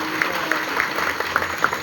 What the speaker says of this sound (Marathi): आर्मीतल्या जवानांसाठी जोरदार टाळ्या वाजवा सगळ्यांनी